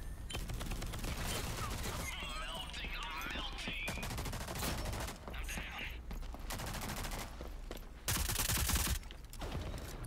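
Pistol gunshots in the video game Rogue Company crack in rapid, uneven bursts, close and sharp, mixed with mechanical clicks and game effects and a voice talking over them.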